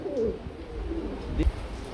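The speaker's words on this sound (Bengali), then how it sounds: "এক জোড়া মন্ডিয়ান কবুতর দেখতে পাচ্ছি" Pigeons at a breeding farm give a soft, low coo, a short murmuring call close by over steady room noise.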